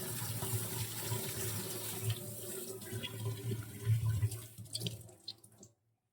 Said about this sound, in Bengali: তো চলো এগুলো এখন একটু ভালো করে ধুয়ে নেব